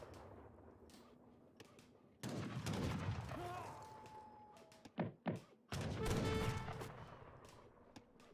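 Gunfire in an Age of Empires 3 battle: a dense roar of musket volleys and thudding impacts mixed with game sounds, with a couple of brief louder blasts partway through.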